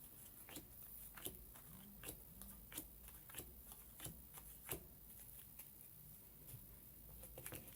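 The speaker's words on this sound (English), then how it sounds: "And shuffle it in." Cards from The Brambles solo board game are shuffled by hand near the table, a quiet series of sharp, crisp riffles and snaps spaced irregularly over a soft background.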